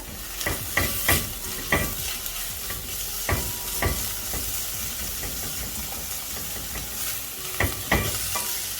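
Onions frying in a pot for stew hiss and sizzle steadily as paste, garlic and ginger go in, with intermittent scraping stirs and clanks of a utensil against the pan, close and continuous.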